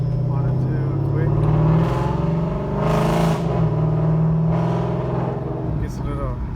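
A 955-generation Porsche Cayenne S, non-turbo, fitted with a cold air intake, drives along. A steady engine drone is heard from inside the car, swelling briefly with rev bursts, while someone talks over it.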